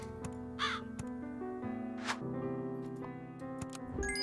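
Crow cawing in the video game Super Auto Pets, a couple of short harsh caws rising over steady game music, fairly close and clear.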